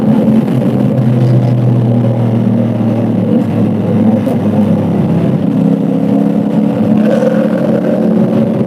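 A CFMOTO 450SR motorcycle engine drones steadily on a Malaysian road, its mid-pitched hum rising and shifting as the throttle is twisted, loud and continuous with no talk over it.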